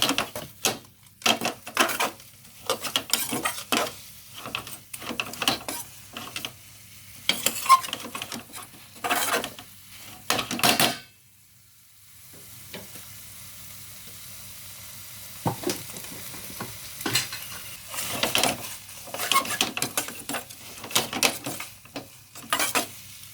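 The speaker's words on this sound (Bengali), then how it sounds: "এবার দিয়ে দেবো আমি চিকেন উইংস, যেটা আমি ফ্রাই করে রেখেছিলাম।" Fried chicken wings go into a pan and are stirred with a metal utensil, giving repeated sharp scraping clanks over a steady sizzle that quiets briefly before the stirring resumes.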